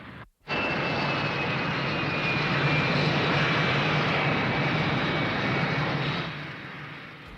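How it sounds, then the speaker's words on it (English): A U.S. military plane arriving at Yokota Air Base makes a loud, steady aircraft engine roar that fills the scene after a brief gap near the start, then eases off slightly at the end. "But to come in through Yokota Air Base on a U.S. military plane?"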